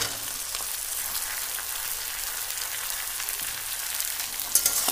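Mixed vegetables (flat beans, peas, potato, kohlrabi and amaranth stems) added to onion already fried reddish sizzle steadily in a pan, a continuous close hiss with faint stirring clicks near the end.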